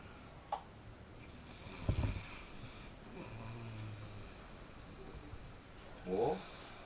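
A woman snores faintly in a quiet room, with a couple of soft rasping breaths and a louder snort-like snore near the end, low and intermittent against a hushed background.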